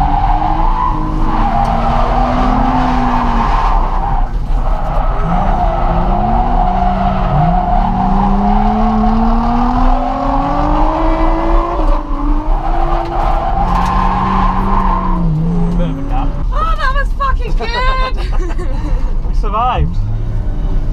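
Nissan 350Z drifting at a Santa Pod drift day, a long continuous tire squeal and skid with engine revving and rising and falling pitch throughout, loud and close, with people talking over it.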